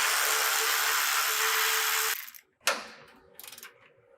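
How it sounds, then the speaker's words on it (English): A power tool spins off 14 mm nuts from the transmission crossbar bolts on a Toyota, a loud steady whir for about two seconds, then short bursts and rattling bits of mechanical clatter. "we're going to remove the nuts off of our transmission crossbar bolts."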